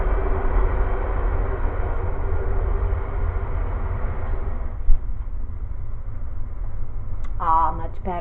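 Train passing outside in a railroad town, a steady low rumble that fades partway through, heard from indoors, with a brief voice near the end.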